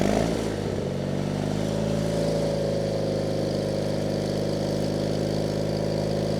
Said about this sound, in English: It might need a carburetor cleaning because when I go ahead and throttle it up,